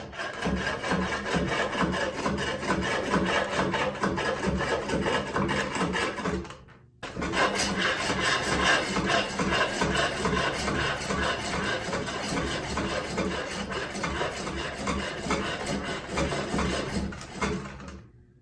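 Hand-powered spring pole lathe turning wood with a skew chisel, giving a steady rasping, scraping cut in rhythmic pulses that runs almost continuously, breaking off briefly near the middle before resuming, close and loud.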